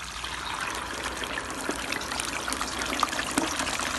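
Fish go into hot oil in a yard fryer, giving a steady close sizzle and bubbling crackle with scattered pops throughout and no voices.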